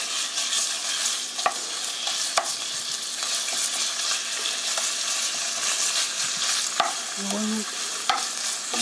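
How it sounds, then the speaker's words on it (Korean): Ground meat sizzles steadily in an oiled pan as it is stir-fried for a tofu meat sauce, with a constant frying hiss and occasional scrapes and clicks of the utensil. "갈아온 고기를 넣고 볶아주세요."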